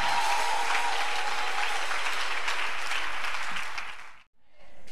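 An audience at a church convention applauds and cheers in a dense, sustained roar of clapping that fades out near the end, followed by a brief quiet.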